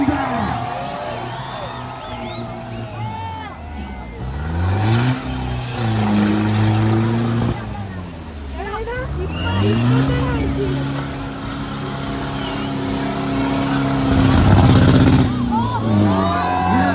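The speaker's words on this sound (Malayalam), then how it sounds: "ചളിയും മണ്ണും ഇളക്കി മറിച്ച് സിംഗ ഇതാ മുന്നോട്ട് കുതിക്കുന്നു." An off-road vehicle churns through mud at a mud race in Kerala, its engine revving and rising and falling in pitch over a crowd, with a commentator talking over it throughout.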